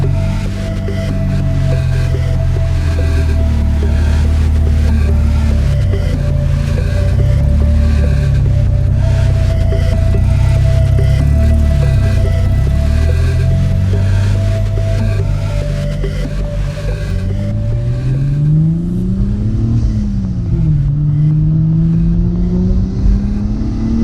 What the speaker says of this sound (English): Said it before and I'll say it again, turbo noises never gets old.